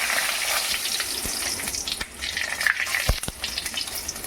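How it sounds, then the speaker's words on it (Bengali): Panch phoron spices and dry red chilli hit hot oil in a pan, giving a steady, close crackling sizzle throughout, with a few sharp pops near the end; no one speaks. "এবার আমি গরম তেলে এই পাঁচ ফোড়নটা দেব তারপরে দেবো শুকনো লঙ্কা"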